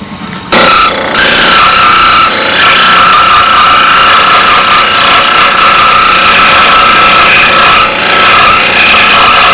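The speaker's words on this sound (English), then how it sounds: "He's sawing that up." A loud, steady motorized saw cuts through composite aircraft structure, droning and rasping close by for several seconds after a brief quiet start, with slight dips in intensity.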